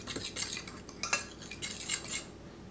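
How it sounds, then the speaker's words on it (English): Dry biscuit ingredients with salt whisked together in a bowl, a quiet run of quick light scrapes and taps of the whisk against the bowl, close and fairly faint, no talking. "And then we're just gonna whisk that together"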